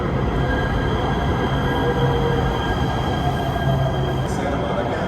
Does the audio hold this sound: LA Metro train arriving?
yes